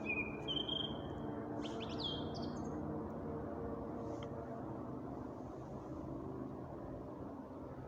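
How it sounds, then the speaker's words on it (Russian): Forest songbirds sing on a May day, with faint high chirps and short song phrases scattered far off over a constant low rumble of ambient noise. "Птицы поют обалденно."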